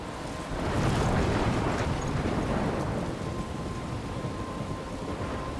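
Storm in the Life is Strange game near a lighthouse: dense, loud rain and wind with deep thunder rumbling early, settling into a steady roar, no voices.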